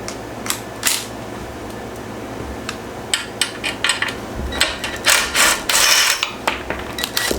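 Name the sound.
ratchet removing bolts from a Yerf Dog go kart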